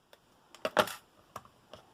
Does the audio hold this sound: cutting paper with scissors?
yes